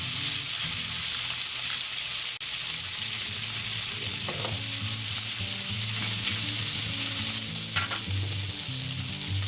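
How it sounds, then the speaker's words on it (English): Shrimp browning in olive oil and butter in an old iron pan on a camp stove, giving a loud, steady sizzle and crackle that runs throughout, with one sharp click and occasional spatters, no talking. "You got a little olive oil and butter there, right in the old iron on the, right up on the camp stove."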